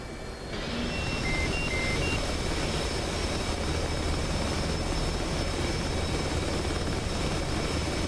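Loud, steady jet engine roar of a carrier-based plane that has just trapped on a carrier deck, heard inside a VR flight simulator on a DOF Reality P6 motion rig; a constant broadband drone with no talking.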